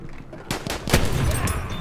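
Gunfire in the Battlefield 1 multiplayer video game, including a Martini-Henry rifle, comes as several sharp bursts close together over a steady game-sound background, with no talking.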